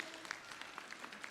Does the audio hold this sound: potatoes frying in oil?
no